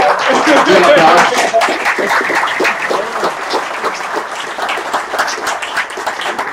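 Audience at a Bitcoin engineering meetup bursts into loud, sustained applause with a few cheers, peaking early and then tapering slightly while clapping continues throughout.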